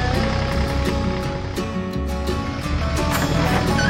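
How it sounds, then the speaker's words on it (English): Two tractors, one pulling a special timber trailer, set off together with a dense, continuous engine roar that stays loud and steady throughout with a low rumbling drone and clattering mechanical detail. "Both machines, ready for action, started off with the roar of their engines."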